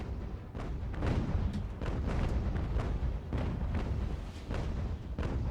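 Cannon fire in Ultimate General: American Revolution during a naval battle at sea, a dense rumbling volley of overlapping booms rolling on continuously at steady loudness with no clear gaps.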